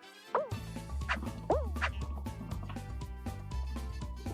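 Dog barking in the Stumble Guys video game: several sharp yipping barks, close and loud, over a steady thumping game music loop.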